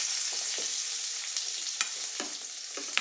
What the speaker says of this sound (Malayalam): നമുക്ക് ഇതിൽ ഉള്ളി ആഡ് ചെയ്യാം.